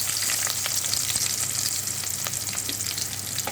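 Onion pieces sizzling in hot oil with fried spices for Telangana-style bagara rice, a steady loud crackle with occasional stirring clinks throughout.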